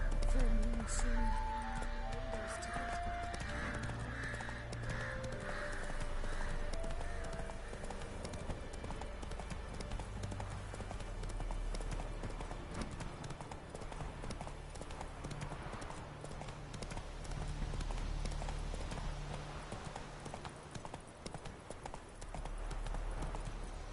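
Steady clip-clop of the horse Roach galloping in The Witcher video game, a continuous rhythmic hoofbeat under ambient game sound, with a brief spoken voice at the start.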